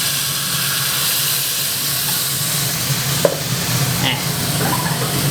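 Blanched glass vermicelli noodles and sauce go into a hot pan for baked shrimp vermicelli, producing a loud, steady sizzling hiss with a couple of brief utensil clinks partway through.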